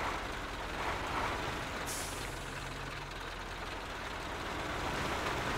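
Truck air brakes in the off-road driving game MudRunner: a sharp hiss bursts out about two seconds in over a steady, loud engine rumble that runs throughout, with no talk.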